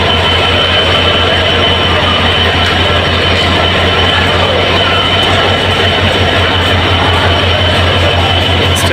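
A train at Kamalapur railway station in Dhaka produces a loud, continuous low rumble and engine drone, with a busy platform wash and indistinct voices mixed in.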